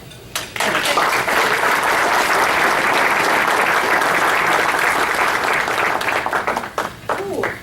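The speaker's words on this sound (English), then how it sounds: "And I want to applaud each and every one of them for what they do every day." Audience applause for educators at a recognition event, a full room clapping loudly and steadily for several seconds before trailing off into a few scattered claps and voices.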